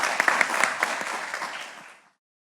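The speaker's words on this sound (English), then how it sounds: "Please give a round of applause to welcome Vedant." An audience at a university pitch competition final applauds to welcome a presenter, a bright burst of many hands clapping that swells briefly and then fades out to silence.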